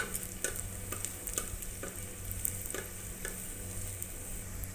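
Kaddu koftas frying slowly in a pan over low heat give a steady, soft sizzle with light ticks and occasional stirring clicks, close by and fairly quiet, with no voices.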